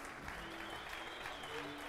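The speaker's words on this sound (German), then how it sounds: "Zuschauer von Griedel stehen natürlich auch auf," Spectators of Griedel applauding at a TSV Griedel versus TuS Holzheim amateur football match, a steady wash of clapping from a distant crowd, faint, with a voice talking over it.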